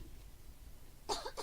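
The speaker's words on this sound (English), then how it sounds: "I have been holding in a cough." A single short cough, faint and close, ends a stretch of quiet room hiss, with a second smaller cough following right after.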